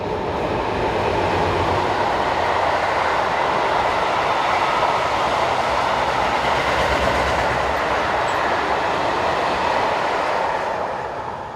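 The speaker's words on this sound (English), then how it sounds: "Heading a probable Châtelet to Quincampoix steel train is diesel number" Diesel locomotive number 7842 hauls a long steel train past, a loud, steady roar of engine and rolling wagons with faint clickety-clack from the wheels, holding close and constant throughout before easing slightly at the end.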